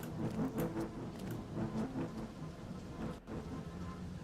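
Steady rain hisses throughout with low thunder rumbling beneath in Fortnite, a dense, continuous storm sound with no talking.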